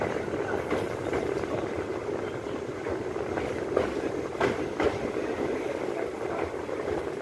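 Inside the moving Tungabhadra train near the Krishna river in Gadwal, Telangana, a steady low rumble of wheels and carriage runs throughout, with faint rhythmic clacks of the rails.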